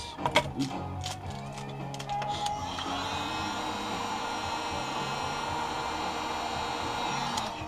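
A heat gun warms an iPhone 5 flex cable during a repair, giving a steady, close airflow hiss and hum that holds for most of the span. A few clicks and taps of handling come before it starts.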